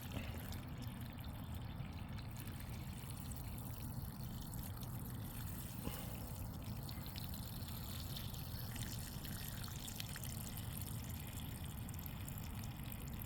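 Water trickling and pouring steadily out of a homemade grease trap, a faint continuous splashing flow with a low rumble underneath, with no voices.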